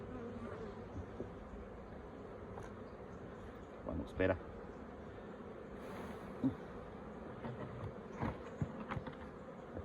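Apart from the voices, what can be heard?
honeybees buzzing in an opened hive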